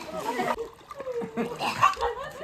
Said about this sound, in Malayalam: ഇവിടെ ഇവിടെ വെള്ളത്തിൽ ചാടി തകർക്കുക